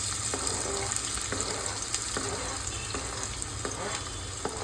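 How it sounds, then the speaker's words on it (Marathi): Four to five onions sizzle in oil for a mutton curry, a close, busy crackle of frying with occasional stirring clinks running steadily throughout. "आता कांदे आपण टाकूया. मी 4-5 कांदे टाकले आहे."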